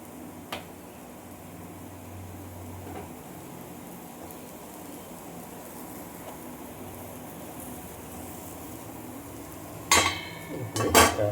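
Quail egg mushroom gravy being moved into another container: quiet kitchen hiss for a long stretch, then a short cluster of scraping clinks of utensil on metal near the end.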